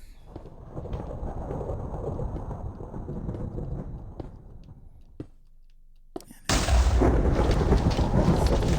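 A thunderstorm in Minecraft: steady rain hiss under low rumbling, a short quiet gap, then a sudden loud crash of thunder that rolls on heavily to the end. A single spoken word is heard.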